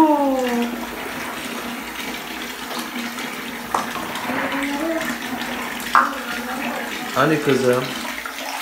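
Water splashes and pours steadily while a little girl is bathed, with a faucet-like rush and a few louder splashes. A voice talks over it.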